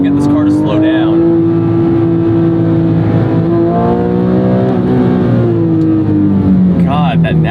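A Porsche 911 GT3 of the 997.1 generation with its naturally aspirated flat-six engine howls loudly from inside the cabin, revs rising and falling through gear changes, the engine tone sustained across the whole stretch.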